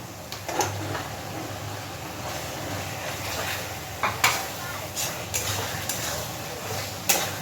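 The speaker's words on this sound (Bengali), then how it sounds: "চর্বি আর আলুটাকে দিয়ে আরও মিনিট 5 সাথে খুব ভালো করে কষিয়ে নেব।" Beef fat and fried potatoes are stirred together in a pan for a ghugni dish. A faint, steady sizzle runs under scattered scraping strokes and light clinks of a spoon against the pan.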